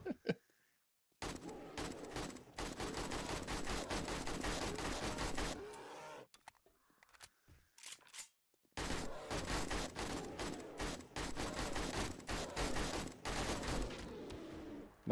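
Rapid bursts of gunfire in the survival video game 7 Days to Die, loud and dense, in two long volleys separated by a short quieter gap near the middle, with no talk over them.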